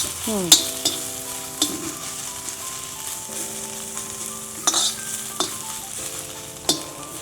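Masala sautéed and stirred in a pan over a village wood-fired chulha for thorny bhindi, with a low steady sizzle under sharp scrapes and clinks of the spoon against the pan at irregular intervals.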